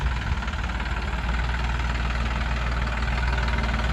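Steady diesel rumble from a Massey Ferguson 2615 tractor hoeing a sugar beet field, a loud continuous engine drone with a knocking, vibrating texture and no voices.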